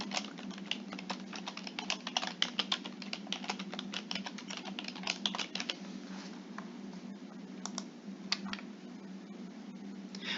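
Steady rapid typing on a computer keyboard while a password is entered, many close, crisp key clicks in an uneven rhythm with no talking.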